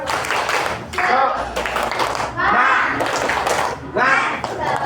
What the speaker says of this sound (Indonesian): mau ngecek semangat dengan tepuk semangat